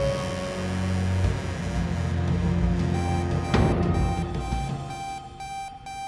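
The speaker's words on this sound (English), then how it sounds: "I kept hearing like a loud, kind of like a beep noise." A loud, steady electronic beeping tone with sustained harmonics rings continuously over a low hum, with a brief sharp click midway, and no speech.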